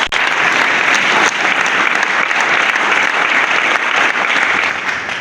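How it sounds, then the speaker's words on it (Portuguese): Loud, sustained applause from a church congregation at a family gathering, a close, dense roar of clapping that holds steady for several seconds with only slight swells and no speech. "Podemos avançar de palmas para o nosso"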